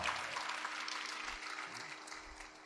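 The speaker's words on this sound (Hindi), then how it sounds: "लो भाई, जोरदार ताली बजा दो अम्मा का।" Audience at a spiritual gathering clapping for an elderly woman, a soft, distant patter of applause heard faintly and evenly across the brief moment.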